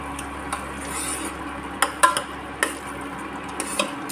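Masala with green chillies fries gently in a pan, a soft steady sizzle under light scraping and a few clinks of a spoon stirring, close and moderate in level, with no voices.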